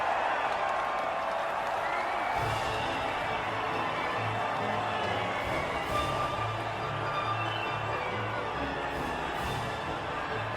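Crowd cheering at the podium after the Monaco Grand Prix in the video game F1 2019: a dense, constant wash of distant crowd noise and applause with a low engine-like drone underneath, no single voice standing out.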